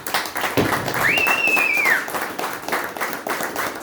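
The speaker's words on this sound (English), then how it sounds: "would she hear us if we clap?" An audience at an opening-night artist talk breaks into a round of applause, a dense, sustained patter of many hands clapping at close range, with a brief whistle cutting through partway.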